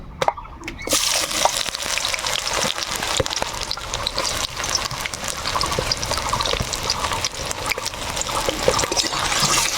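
Chopped onions frying in mustard oil with a bay leaf in a kadai: a continuous, dense crackling sizzle fills the whole stretch after a brief quiet start, broken by frequent stirring scrapes and taps.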